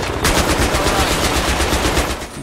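Rapid automatic gunfire from an enemy in the Battlefield 3 video game, a loud, dense burst of repeated shots rattling steadily for the whole stretch with no talk over it.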